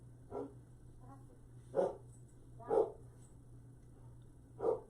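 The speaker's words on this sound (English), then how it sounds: "the dogs have to start barking when I go live" A dog barks four times at uneven intervals, moderately close, over a steady low electrical hum.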